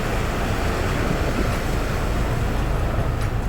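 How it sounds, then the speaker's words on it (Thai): Continuous broadband roar of surf washing onto a sandy beach at Ao Nang, Krabi, Thailand, steady and fairly loud with no voices. "เสียงคลื่นสบายจังเลย"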